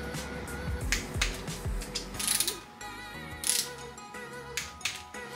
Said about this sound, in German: Und auch diese Schrauben bekommen 10 Newtonmeter.